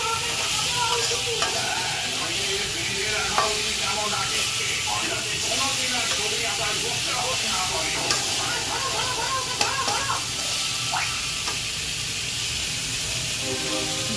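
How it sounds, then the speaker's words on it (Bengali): Marinated fish pieces sizzle in hot oil in a pan while being fried for a Bengali fish curry; a dense, steady hiss with scattered small crackles runs throughout, close and fairly loud. "মাছগুলো উল্টে দিলাম ভালোভাবে ভেজে নেওয়ার জন্য।"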